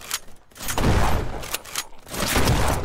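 Shotgun fire in Ancient Warfare 3, several heavy, blasting shots in uneven succession with rumbling low-end bursts, loud and close, with no talking.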